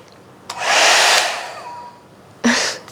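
A hot air hair brush runs on partly dry hair, giving a close, loud airy whoosh that swells for about a second, fades, then returns in a shorter burst.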